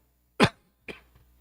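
A single sharp cough up close, followed by a softer second cough and a faint trailing sound, in an otherwise quiet room.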